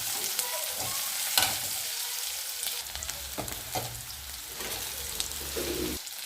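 Chopped onion and capsicum sizzle and spit in a hot pan while being stirred, a bright crackling hiss with scraping stir strokes and occasional louder pops, close and continuous.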